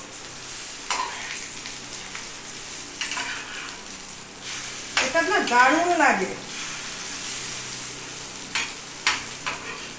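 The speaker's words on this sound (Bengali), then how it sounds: "আর এটাও আস্তে আস্তে ফ্রাই হতে থাকবে" Fish roe and poppy seed balls fry in a nonstick pan, a steady sizzle and spatter running throughout under a woman's nearby speech, with a brief clatter of stirring midway.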